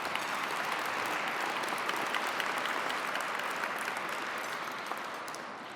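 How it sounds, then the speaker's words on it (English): Sustained applause from a large audience at a pro-life speech event, dense even clapping that holds steady and then begins to fade toward the end. "And so we applaud and thank her for that and for her being here tonight."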